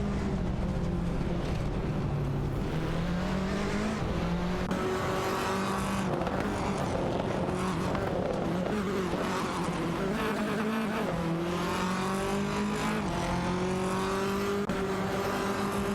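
Race car engines roar and shift pitch continuously in an AI racing video game, with several cars revving and accelerating together in a loud, unbroken mix.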